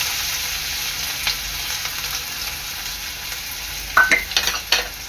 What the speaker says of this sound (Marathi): तेल चांगलं गरम झालेलं आहे, यामध्ये टाकणार आहे मी फोडणीला बारीक चिरलेला कांदा